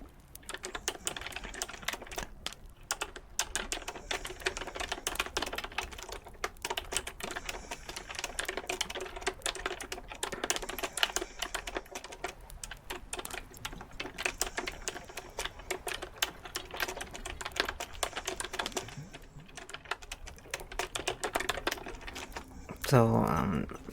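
Steady typing on a computer keyboard, a run of quick, close clicks and taps that carries on with only brief pauses, with a little background noise and faint speech at times.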